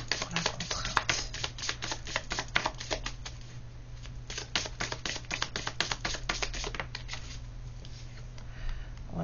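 A tarot-style card reading deck being shuffled and a card drawn, dense rapid flicking and riffling close by, continuing in bursts over a low steady hum.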